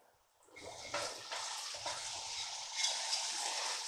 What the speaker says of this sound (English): So our onions have been cooking for about 5 minutes, so I'm going to add in my peppers.